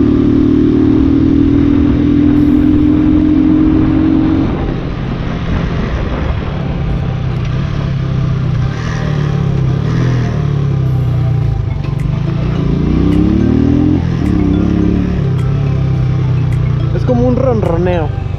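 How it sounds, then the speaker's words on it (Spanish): A motorcycle engine rumbles loudly and rises and falls in pitch as it revs, with a voice talking over it throughout. "El sonido de esta motocicleta me gusta"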